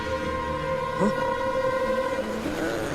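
A train rumbles steadily nearby with sustained tonal, horn-like lines over the noise, continuing throughout the scene, with a brief voice mixed in.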